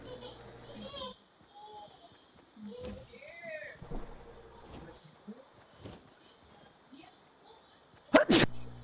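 A single loud, sharp sneeze bursts out near the end, close to the mic, after a stretch of children's chatter and game noise during a Fortnite session.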